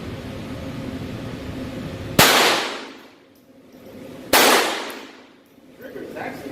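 Two sharp, loud gunshots from a Glock 44 pistol, about two seconds apart, each a crisp crack followed by a ringing decay, over faint background noise.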